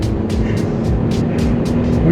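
A 2012 Smart Fortwo accelerating at full throttle, the small engine droning and rising in pitch from inside the cabin, with rhythmic bursts of hiss and a voice briefly under it.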